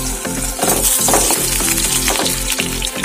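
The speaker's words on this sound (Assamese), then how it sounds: "এই আলুকেইটা ফ্ৰাই কৰি লওঁ।" Potatoes fry in a pan for chicken biryani, giving a loud, steady sizzle with bursts of stirring throughout.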